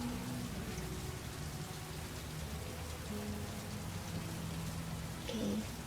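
Rain in the video game Heavy Rain, a steady soft patter of falling rain under a low game background hum, with a brief brighter sound near the end.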